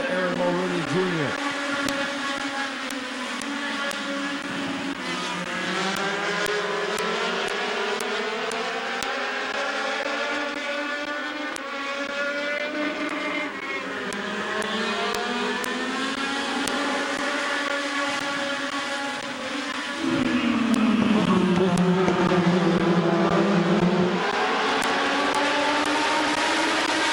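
Race cars roaring around the Midvale Speedway oval, a steady loud blend of engines rising and falling in pitch as they pass, with a commentator talking over the noise throughout.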